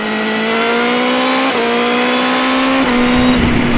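BMW M 1000 R motorcycle engine, loud and close, climbing steadily in pitch with brief quickshifter cuts on upshifts and a burbling blip as it shifts down near the end.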